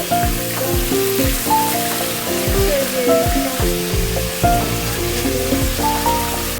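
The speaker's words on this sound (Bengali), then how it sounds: "এখন জোরে তেল ছিটেছে।" Hot oil spattering while chicken fries for a roast, a loud, crackling sizzle running throughout, with tonal background sounds layered over it.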